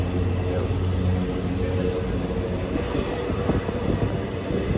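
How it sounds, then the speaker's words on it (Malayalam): On board a 6:20 morning train bound for Mangalore, a loud steady rumble of wheels and carriage fills the space, with a person talking over it. "സോ നമ്മളിപ്പോൾ ട്രെയിൻ കയറി."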